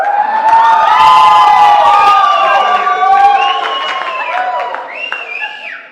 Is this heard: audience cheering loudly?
yes